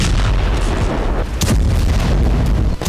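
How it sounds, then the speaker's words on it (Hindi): Israeli bombardment of Hamas positions: a dense, close series of heavy booming explosions and sharp blasts rolling together over a few seconds, loud and continuous with no speech. "हमास के अड्डों पर इजराइल भीषण बमबारी कर रहा है।"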